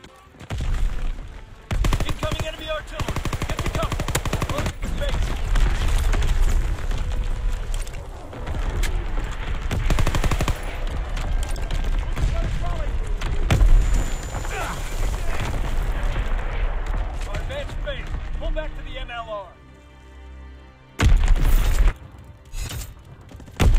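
Enemy artillery explosions in Fortnite, a barrage of loud booming blasts and rapid gunfire-like bursts running almost continuously, with a brief lull near the end before a final heavy burst; a voice speaks at times over the din.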